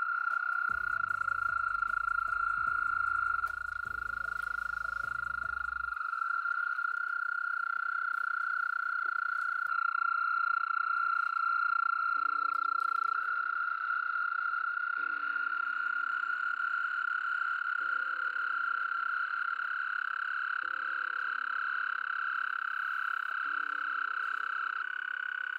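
American toads trilling at night in western Pennsylvania, long sustained high-pitched musical trills that overlap and continue throughout, with a second, lower pulsed calling joining in partway through, and an early stretch of low rumbling.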